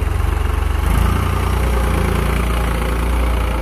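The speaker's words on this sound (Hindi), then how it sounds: "50 HP के साथ में आता है 3600-2 ट्रैक्टर।" A 50 HP New Holland 3600-2 tractor engine idles steadily and loudly up close, its low diesel throb pulsing evenly with a slight rise near the one-second mark, with no speech.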